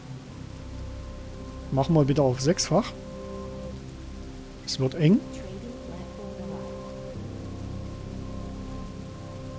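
Steady rain falling in the building game Cliff Empire, a constant soft hiss running throughout, with someone speaking German over it in two brief bursts.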